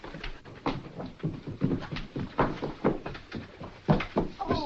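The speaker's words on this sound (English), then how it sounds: "Oh, it's Alison, the poor dog." A dog whimpers and whines in a 1948 film-noir scene, a string of short, uneven cries and yelps repeating close by, with faint room noise between them.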